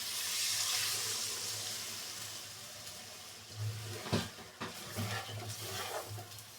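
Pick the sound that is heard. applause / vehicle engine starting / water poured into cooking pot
water poured into cooking pot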